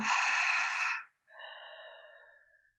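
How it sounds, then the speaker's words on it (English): A single slow, deep exhale during a guided breathing exercise: a broad, close breathy rush of air that fades out, followed after a short gap by a softer, thinner breath. "Hold at the top. And exhale."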